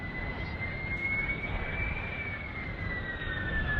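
A de Havilland Vampire FB6 jet landing at an airshow, a steady distant jet roar with a thin high whine holding through, no pause in the drone.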